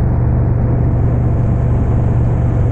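A Harley Street Glide fitted with Rinehart DBX45 exhausts cruises in fifth gear at about 3,000 RPM on a rural highway, giving a loud, steady, deep rumble mixed with wind roar and no break.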